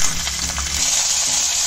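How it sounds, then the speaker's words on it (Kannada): Green chillies, five or six of them, frying in a pan already used for roasting peanuts, giving a steady close sizzle with a few low knocks early on, heard alone without talk. "ಇವಾಗ ಇದೇ ಪ್ಯಾನ್ಗೆ ಒಂದು ಐದಾರು ಹಸಿಮೆಣಸಿನ್ಕಾಯಿ ಹಾಕ್ಕೊಬೇಕು"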